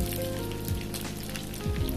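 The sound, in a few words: anchovies frying in oil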